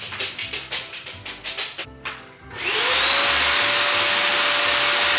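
Household vacuum cleaner starting up after a run of soft rhythmic tapping. The motor then settles into a steady, close, droning whine that runs to the end.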